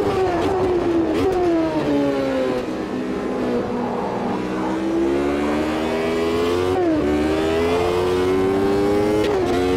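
Loud, up-close engine of a classic Formula 1 car in Automobilista 2, revving hard and falling back between shifts, with a possible brief tire squeal and no talking.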